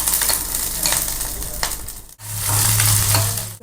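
Green chillies frying in oil over a medium flame for pongal, a steady loud sizzle with stirring scrapes, briefly cut off near the middle and then resuming with a strong hiss and low hum.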